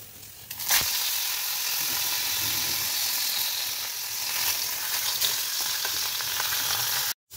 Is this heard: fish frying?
yes